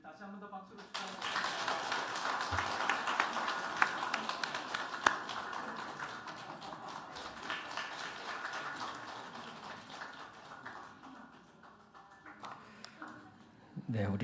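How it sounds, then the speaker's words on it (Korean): A church congregation claps together in celebration, a sustained, fairly steady round of applause lasting most of the stretch with a few sharper claps, tapering off near the end. "다시 한 번 더 박수로 축하합니다"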